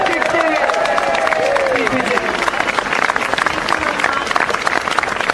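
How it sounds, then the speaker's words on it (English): Outdoor crowd applauding at a statue unveiling, a steady wash of clapping that runs throughout, mixed with crowd hubbub while someone speaks over it. "Give her a round of applause."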